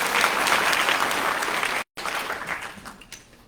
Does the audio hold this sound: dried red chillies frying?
no